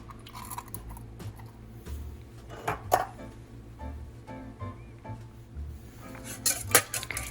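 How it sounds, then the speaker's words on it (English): Eggs are cracked into a bowl for a breakfast egg mixture, with a few sharp taps and clinks of shell against the rim amid light dish and utensil clatter, close and fairly quiet. "And start cracking all the eggs."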